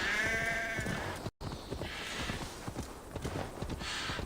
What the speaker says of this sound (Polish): Koń się umie wspinać lepiej ode mnie.